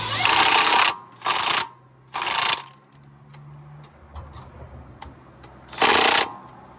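A big impact wrench removes the lower bolt at the steering knuckle of an Acura TSX during a front wheel bearing job, firing in three loud, close hammering bursts, then a quiet gap with faint clinks, then one more burst.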